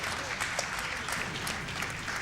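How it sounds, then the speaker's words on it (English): Steady applause from a crowd, dense and continuous clapping filling the whole moment without pause. "You deserve applause."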